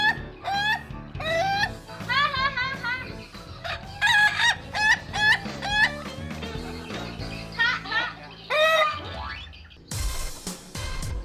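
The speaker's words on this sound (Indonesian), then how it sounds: "Kenapa dikasih nama ayam ketawa? Ya karena suaranya yang mirip kayak orang ketawa manusia." Ayam ketawa, the laughing chicken of Sidrap, Indonesia, crows in long, repeated, warbling bursts that sound like human laughter, close and loud, with some voices in the background.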